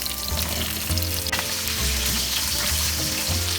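Raw papaya, green banana and potato sizzle and fry in hot oil in a pan, a steady crackling hiss with recurring low thumps from stirring, close and continuous.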